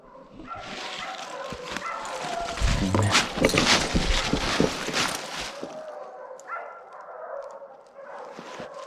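Hunting dogs bay and bark at a bear on the ground, a frantic, overlapping chorus of barks and yips from several dogs at moderate distance, loudest in the middle and easing toward the end.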